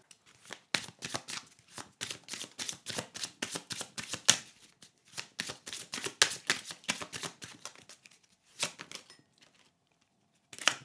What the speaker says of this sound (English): I'm going to pick a card from Spirit Animal Guidance.